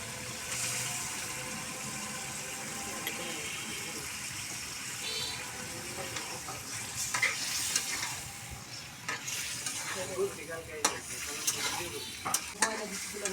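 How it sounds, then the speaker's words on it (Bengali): Meat, likely country chicken, goes into a hot pot for a home-cooked pulao meal and is stirred, giving a steady sizzle and frying hiss with scraping clatter that grows busier toward the end. "এখন আমি মাংসগুলো দিয়ে দিচ্ছি।"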